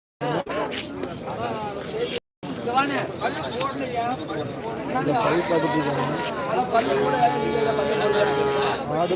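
Goats bleating at a crowded livestock market, several loud, wavering calls overlapping one another close by, with steady crowd chatter and people talking underneath.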